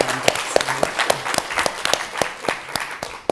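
Scattered, uneven hand claps at a summit gathering, sparse individual claps rather than a full ovation, with a voice coming through partway.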